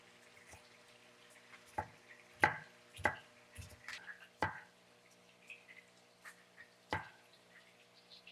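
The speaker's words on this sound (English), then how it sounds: "And then we're going to chop up our garlic a little bit." A knife taps sharply on a cutting board in a few irregular chops of garlic, close and fairly quiet, with a faint hum in the background.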